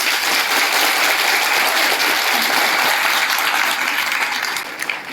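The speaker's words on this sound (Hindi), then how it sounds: "सबसे पहले उनके स्वागत में जोरदार तालियां" Audience applause welcoming visiting teachers at a zonal debate, essay writing and painting competition, a loud, dense, steady wash of clapping from a large crowd that continues throughout and thins slightly near the end.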